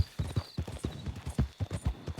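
A horse's hooves clip-clop at a steady walking rhythm in the Red Dead Redemption 2 video game, close and clear with no talk over it.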